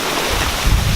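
Forceful ocean surf pulling back down a steep beach at Monterrico, Guatemala, a low rumbling wash with wind buffeting the microphone, swelling louder toward the end.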